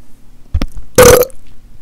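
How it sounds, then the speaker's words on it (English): A loud, close burp straight into a microphone in a gaming session, one thick rumbling belch of about a third of a second, with softer thumps before and after. "I burped straight on the microphone just then"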